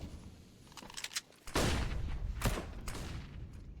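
In a Counter-Strike match, AK rifle fire comes in a few sharp, quiet bursts, the clustered shots sounding thin and somewhat distant against a low background.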